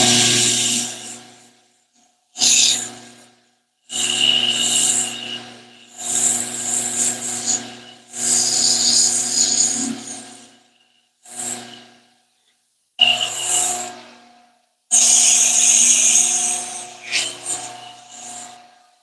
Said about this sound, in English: Oh, sanding.